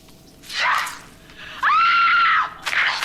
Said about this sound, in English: She can scream.